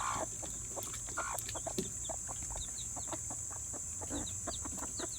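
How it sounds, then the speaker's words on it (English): Hens clucking and fussing in a backyard coop with baby chicks nearby, a busy run of short, close, repeated clucks and squawks over a steady background hum. "Look to mama, she's fussing at that other hen."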